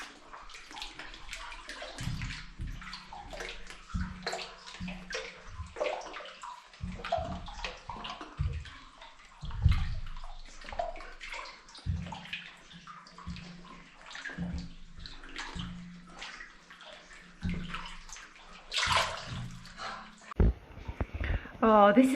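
Water splashing and sloshing as someone wades through a flooded passage in an old Derbyshire lead mine, with repeated sloshes in a rough walking rhythm, close and echoing, under intermittent talk.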